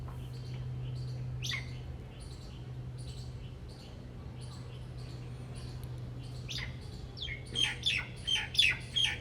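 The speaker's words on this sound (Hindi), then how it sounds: "और ये इधर एक मैना भी आ गई थी" A myna bird outdoors on a morning calls in short chirps and squawks, sparse at first, then a quicker cluster of louder, close calls near the end over steady low background hum.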